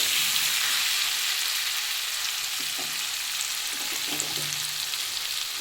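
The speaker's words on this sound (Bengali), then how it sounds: "আদা পেস্ট রসুনের পেস্ট আমি একটু ভালো করে নাড়িয়ে দিচ্ছি" Ginger and garlic paste fry in a pan with a continuous close sizzle, while a spoon scrapes and stirs in soft, irregular taps beneath it.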